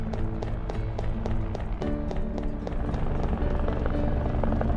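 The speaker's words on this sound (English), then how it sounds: "Whoa, a helicopter!" A cartoon helicopter thrums close by, its rotor chopping in a fast steady beat over a loud engine drone.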